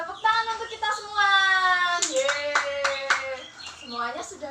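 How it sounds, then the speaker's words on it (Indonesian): Young children in a classroom clap their hands together in a short burst of claps, mixed with their high, bright voices singing and calling out. "Tepuk tangan untuk kita semua."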